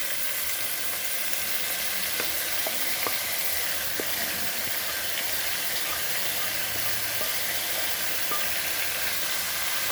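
Shrimp sizzle steadily in a hot pan with vegetables while pasta is prepared, a constant close frying hiss with faint crackles and occasional stirring clicks, no voices.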